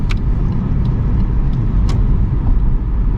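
A lowered EK Honda Civic sedan drives along a road, giving a steady road and engine rumble with faint intermittent clicks and rattles, heard from inside the car without talk.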